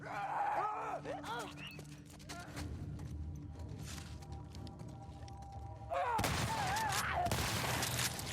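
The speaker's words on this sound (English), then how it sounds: "How dare you waste my shotgun rounds?" In The Last of Us Part II, shotgun blasts boom out as sharp, loud bursts over game music and voices, with a heavier barrage of shots toward the end.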